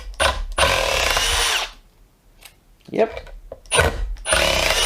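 A DeWalt drill with a Flex Torq bit holder backs a screw out of wood in several close, loud whirring bursts separated by short pauses, with a brief spoken word between them.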